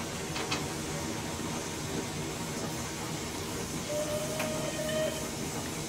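Merchant Navy Class steam locomotive in Train Simulator 2020, a steady rumbling hiss with faint clanks and a brief tonal whistle-like squeal, continuous throughout.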